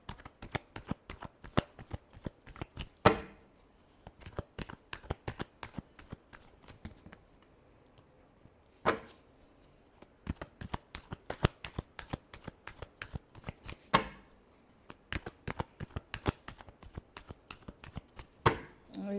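Tarot cards being shuffled in a long run of rapid riffling and slapping bursts, moderately close and fairly quiet, with a few louder riffles standing out.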